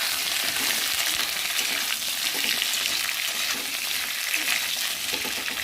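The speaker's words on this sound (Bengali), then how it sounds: "আর এখন দিয়ে দেবো আলুগুলো। ভালো করে নেড়ে দেবো।" Potatoes frying in a pan with tempered spices, sizzling loud and steady at close range while a spatula stirs them in soft, repeated scrapes.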